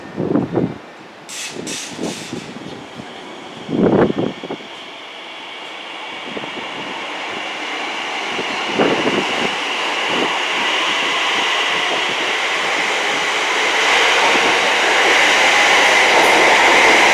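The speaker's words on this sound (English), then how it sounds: "This right here is a class 345 EMU" A class 345 EMU, one of the new TfL Rail trains on the Shenfield line in London, passes a station. It starts with a few short rumbling bursts, then builds into a loud, sustained roar and whine that rises steadily to the end.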